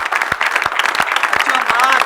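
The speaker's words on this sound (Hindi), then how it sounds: "तालियों में इस्तकबाल कीजिए" A studio audience at a comedy show claps to welcome a guest, a burst of close, lively applause with sharp individual claps.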